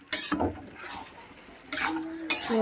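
Dum chicken stirred and fried in a pan over a high flame, with bursts of scraping spatula strokes against the metal and a soft sizzle between them, heard up close at a moderate level.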